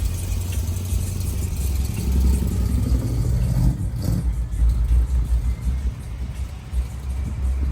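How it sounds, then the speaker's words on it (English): A big block V8 in a '73 Chevrolet Impala rumbles loud and close with a deep, steady low-end roar, swelling through a rev in the middle before settling back to a throaty idle. "Listen at that big block, y'all, listen at that big block"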